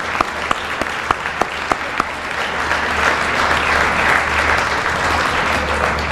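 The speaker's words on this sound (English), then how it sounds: "let's give one round of applause to the football team" Applause for the football team at a school Hall of Fame event begins with a few loud, separate claps, then swells into a dense, sustained roar of many hands clapping in a large room, with a low hum underneath.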